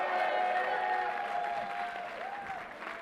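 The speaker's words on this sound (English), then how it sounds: "Give her a round of applause." An audience applauds a governor at a political announcement, a steady dense clatter of many hands that fades gradually over three seconds, with faint voices mixed in.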